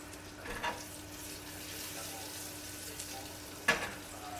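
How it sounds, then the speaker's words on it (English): Cicadas stir-fry gently in butter in a pan, producing a soft, steady sizzle with occasional clinks and scrapes from stirring, close up and unaccompanied by talk. "we'll just stir fry these gently here in the pan"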